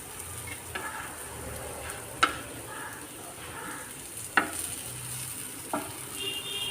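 Plantain slices frying in a pan give a soft, continuous sizzle, broken by a few sharp clinks and scrapes as the pieces are turned over one by one.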